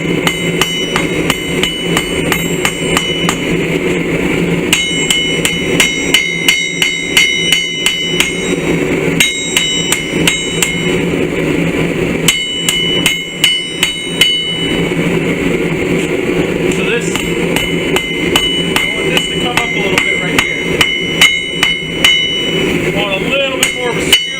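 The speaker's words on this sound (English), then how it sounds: "Start to use the flat side of my hammer." Sharp metallic strikes from the flat side of a hammer forging a knife blade ring out in quick, steady rhythm, with occasional pauses, against a constant background hum of forge machinery.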